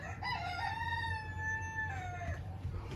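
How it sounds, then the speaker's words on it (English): A rooster crows once in a long drawn-out call, loud and near, over a steady low background hum. "Chicken says yes."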